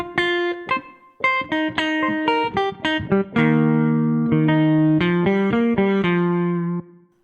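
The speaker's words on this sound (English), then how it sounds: "Right, that strum sound, that slow strum." Slow strummed chords from the Shreddage 3 Stratus virtual electric guitar, a free plugin, ringing out with sharp plucked attacks and long sustained notes, played alone and fairly loud.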